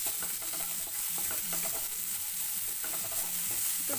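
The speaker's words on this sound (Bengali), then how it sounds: "2 মিনিট ভেজে নেব" Beans seasoned with a little salt fry in a pan, giving a continuous hissing sizzle broken by repeated scraping stirs at an uneven rhythm, close and alone.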